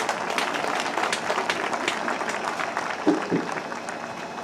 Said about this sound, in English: Soon to be graduates, let's give your parents, relatives, teachers, friends a big round of applause